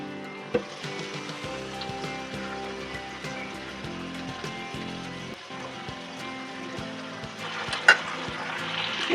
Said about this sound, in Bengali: আমরা এই যে কয়লাটা দেব, তার উপর একটু মাখন দিব